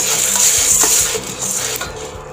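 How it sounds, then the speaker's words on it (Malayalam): Green gram being stirred as it fries in a pan for Palakkad-style Vishu kanji, with steady close scraping and clinking of the utensil against the pan under a constant sizzle, no voices. "അതായത് എല്ലാ ചെറുപയറും ഒരുപോലെ ഫ്രൈ ആവുന്ന രീതിയിൽ വേണം നമ്മൾ ഇളക്കി കൊടുക്കാൻ"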